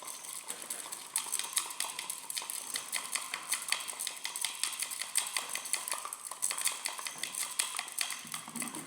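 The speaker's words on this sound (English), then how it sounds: "I now start stirring using the thermometer" Glass thermometer stirring sodium hydroxide solution in a container, a quiet, rapid, continuous clinking and rattling against the glass with no speech.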